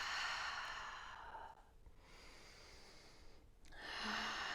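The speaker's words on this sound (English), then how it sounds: "Inhale here to rise. Exhale to settle." A slow, deep breath during a low yoga lunge: a long airy inhale, a pause, then a soft extended exhale, quiet and close with no talking.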